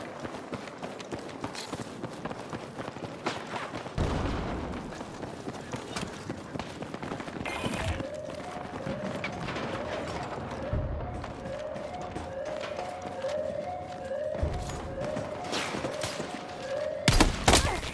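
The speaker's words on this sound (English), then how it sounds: "I'm being sniped across the map now." Gunfire in the video game Battlefield 6, scattered sharp shots and distant cracks spread across a busy battlefield mix with running footsteps and other game noise, several reports standing out at irregular intervals.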